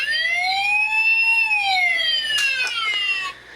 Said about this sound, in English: For the lights and sound, if you press this button here, it makes the siren noise,